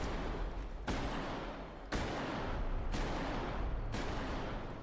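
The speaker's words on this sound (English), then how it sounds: "The gunshot smoothly evolves with the environment." Heavy gunfire from the Bodycam video game trailer, a loud sustained barrage with sharp new volleys roughly every second, moving between open outdoor and enclosed indoor surroundings.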